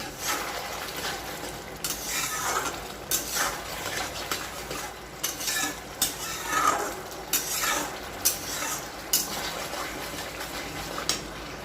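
Tomato masala being stirred and fried in a pan, with spoon scrapes and soft wet sizzling that rise and fall in steady bursts, close by and moderately loud, with no voices.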